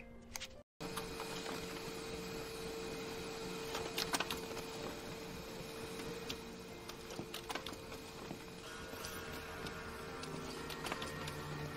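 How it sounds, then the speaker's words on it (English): An office printer runs continuously, its steady mechanical whir and rattling clicks filling the room with dense, unbroken noise after a brief dropout at the start. "I'll print it out so we can double check for typos"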